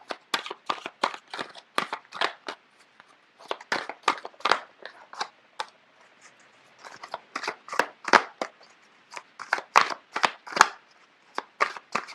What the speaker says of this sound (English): the cards are just flipping left and right